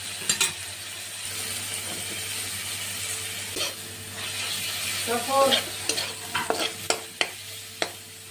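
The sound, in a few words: stirring shrimp curry with ginger garlic paste in a pan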